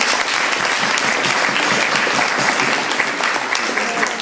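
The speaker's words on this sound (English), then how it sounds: "Got a big round of applause for the bridesmaids" Wedding guests at the reception speeches give the bridesmaids a big round of applause, loud and continuous close clapping that runs throughout with a faint murmur of the crowd beneath it.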